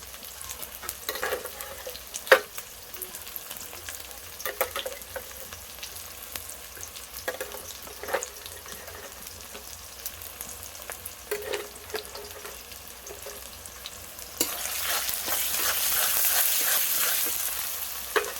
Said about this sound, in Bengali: এবার আদা রসুনের পেস্ট দুটো দিয়ে দেবো।